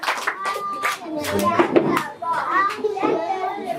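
Children and families at a school closing ceremony clap in uneven bursts, mixed with children's voices and chatter throughout.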